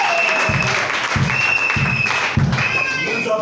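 A church congregation claps steadily in repeated bursts through the service, with broadband applause filling the space and some voices mixed in.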